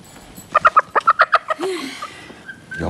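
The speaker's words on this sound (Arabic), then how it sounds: "روح اتبعي الفروج." A chicken clucks in a quick run of about eight sharp, close, loud notes, followed by a softer drawn-out call, with no speech.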